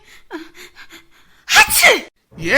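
Soft vocal sounds and sniffs lead into one loud, sharp human sneeze up close, followed by a short pause and the start of another voiced sound.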